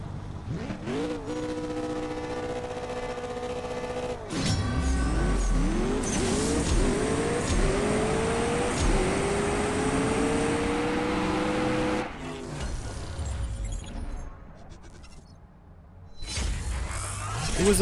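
A McLaren Senna race car in the CSR Racing 2 mobile game, its engine revving hard and climbing through gear after gear with rising whines and abrupt shift breaks, loud and close, ending in a brief lull and another surge.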